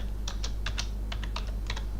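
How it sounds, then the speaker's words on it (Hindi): Fingers tap on a computer keyboard, about a dozen crisp keystrokes in irregular short bursts over a steady low background hum, with no voice. "जैसे मैं एक टाइप कर देता हूँ"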